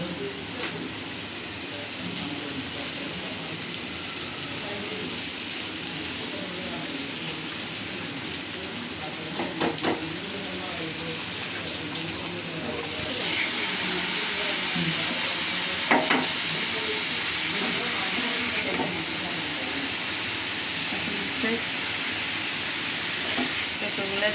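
An egg and lentil dish sizzles and frying in a pan as it is stirred, a steady crackling hiss with occasional scraping, heard fairly close and at even volume throughout.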